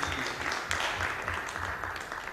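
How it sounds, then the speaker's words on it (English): Church congregation claps together for the mothers, a brief burst of many hands applauding at moderate distance, uneven and busy for the whole short stretch with no voices over it. "can we all give a round of applause to all our mothers?"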